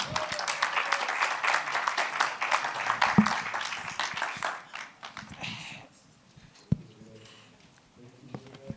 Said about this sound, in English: Ladies and gentlemen, a round of applause for Bernard Shearer from AT4D as he comes on